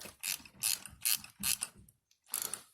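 Ratchet wrench snugging spark plugs into a Cadillac CTS 2.8L/3.6L engine, five quick bursts of close pawl clicking with a brief pause before the last, fairly quiet.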